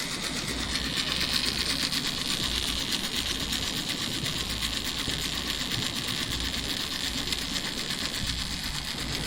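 A gear motor in a coal mine safety monitoring project runs steadily with a continuous low mechanical whir and hum, close and even, with no speech.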